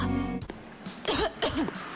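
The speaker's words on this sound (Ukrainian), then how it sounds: "Нестерпний кашель переносиш на ногах?" Several quick harsh coughs follow a brief tonal tail from the preceding sound, close and moderately loud, in a TV commercial break.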